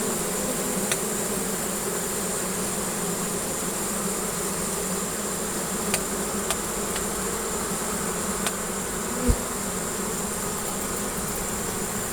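Honeybees fan their wings inside a hive, giving a steady, dense drone that sounds close and constant, with a few faint clicks and taps over it and no talking.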